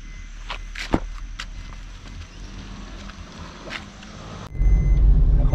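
A four-wheeler car drives along a mountain road, a steady low engine rumble with some clicks and knocks, swelling into a louder, rougher roar near the end, no talking.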